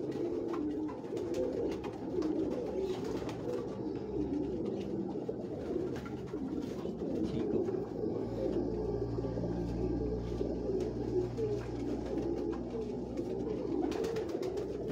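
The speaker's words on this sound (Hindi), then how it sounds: "ये दूसरा कबूतर है।" Pigeons cooing on a rooftop in Lahore, soft low repeated coos that run through the whole stretch at a modest level against faint background noise, with no talking.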